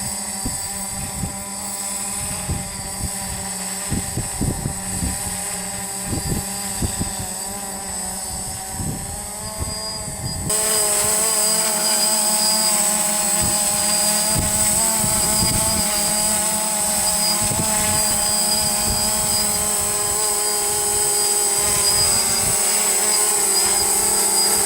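A camera drone flies overhead, its steady propeller whine and buzz droning continuously throughout, growing louder and brighter partway through, with no voices.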